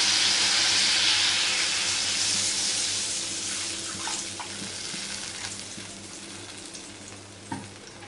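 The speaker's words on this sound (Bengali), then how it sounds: "এবার আমি দিয়ে দেবো পরিমাণ মতো জল" Water poured into hot spice paste frying for a fish curry sets off a loud hissing sizzle that slowly fades, with a few small splashes and a clink toward the end.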